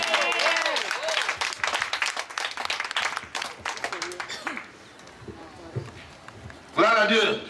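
A church congregation claps and acclaims the Lord in praise, dense rapid applause with voices calling out, loud and close, fading toward the end before a brief burst of shouting.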